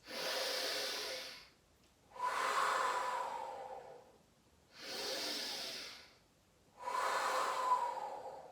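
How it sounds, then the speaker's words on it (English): Deep, forceful breaths during pregnancy yoga: four long, breathy rushes of air alternate between inhale and exhale with short silent gaps. They are close and clear, with no speech. "let's really make them goddess, warrior type breaths"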